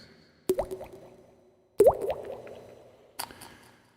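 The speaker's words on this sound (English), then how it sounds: "Can hear a drip." Water drips in a studio, three distinct close plops spaced about a second and a half apart, each with a short ringing tail, in an otherwise quiet room.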